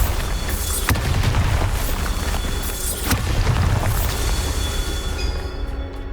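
Bombarda, an explosion spell, cast in the video game Hogwarts Legacy, heard as a dense, continuous booming rumble with a few sharp cracking bursts over about six seconds, loud and close.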